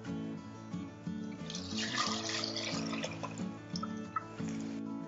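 Millet batter for kambu mor kali poured into boiling water in a pan on a lowered stove, giving a continuous close watery gurgle and splash that swells and eases for several seconds.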